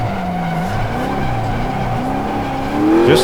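An Ultima GTR mid-engine car with worn rear tires, driven at low revs under light throttle. A loud, continuous engine drone wanders up and down in pitch, and a rising whine and surge comes near the end.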